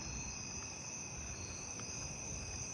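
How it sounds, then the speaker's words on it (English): Fall field crickets chirp faintly in a night neighbourhood, a steady high insect chorus over low background hum, with a few soft chirps standing out. "More fall field crickets."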